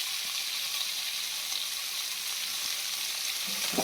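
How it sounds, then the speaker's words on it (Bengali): Pointed gourd and live fish frying in oil in a Bengali home kitchen make a steady, dense sizzle that stays even throughout, with a faint knock near the end. "এখানে পটল ভাজছি, এখানে মাছ ভাজছি"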